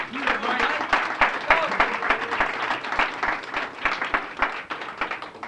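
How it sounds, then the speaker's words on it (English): A crowd at a Boston youth recognition celebration gives another round of applause, with individual claps standing out in a lively, uneven rhythm and some voices underneath. "Can we give another round of applause?"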